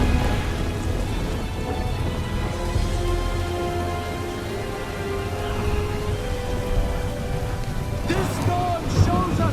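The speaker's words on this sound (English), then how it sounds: "This storm shows us no mercy." Steady storm rain at sea with low rumbling thunder in Hellblade 2, the downpour hissing continuously and loudly throughout, with a brief louder burst near the end.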